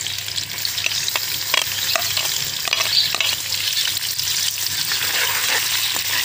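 Chopped onions sizzle loudly in hot browned oil in a pan over an outdoor clay stove, with steady frying hiss and repeated scraping stirs of a spoon; no voices.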